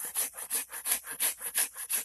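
The end of a carved wooden spoon is trimmed with quick back-and-forth saw strokes, about ten rhythmic rasping passes close by, with no voices.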